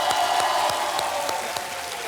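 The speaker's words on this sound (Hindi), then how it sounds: "जोरदार तालियां बज जाएं सोनिया जी के लिए" Studio audience clapping on the Kaun Banega Crorepati game show set, a steady dense wash of applause with a few sharper individual claps, loud and continuous throughout without any talk.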